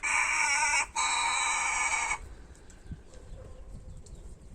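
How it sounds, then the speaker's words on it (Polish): An Australorp rooster crows loudly and close by in a henhouse, one strong crow broken by a brief gap, then quieter clucks and faint rustling afterward. "Australorp może zapieje."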